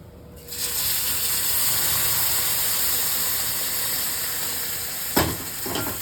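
Hot milk hits semolina roasted in ghee, setting off a loud, steady hiss and sizzle close by that holds for several seconds, with a brief clatter near the end.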